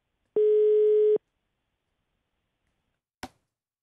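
A phone line tone while calling in to a live radio studio: one steady electronic beep lasting under a second, then silence broken by a single sharp click, with no voices.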